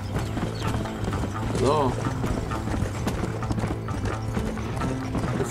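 Horse hooves clip-clop steadily while riding in the video game Red Dead Redemption, with a mechanical ratcheting texture and a brief whinny-like sound, under a continuous low game soundscape and a short spoken word.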